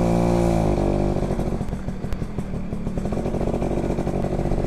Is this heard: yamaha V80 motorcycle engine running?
yes